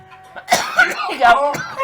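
A person coughs several times in quick, harsh bursts up close while smoking weed, with some throaty vocal sounds mixed in.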